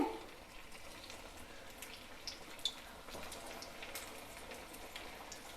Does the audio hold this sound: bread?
yes